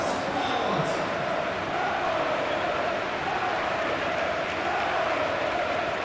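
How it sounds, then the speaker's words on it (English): A dense, constant roar of a packed stadium crowd in the eFootball PES football video game, a match of England versus Argentina, steady and loud throughout with no clear breaks. "It's a capacity crowd here."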